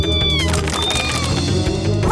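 A cartoon kitten meows in a Portuguese-dubbed animated rescue show, giving a few high, wavering mews over busy background music and effects, close and clear.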